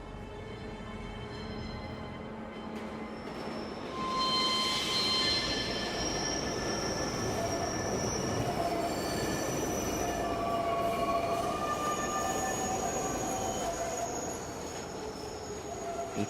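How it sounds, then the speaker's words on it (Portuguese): A subway train pulls into a station, a long steady rumble of wheels on rail with high squeals and screeches rising and falling over it, loud and continuous with no voices. "Então, o metrô chegou,"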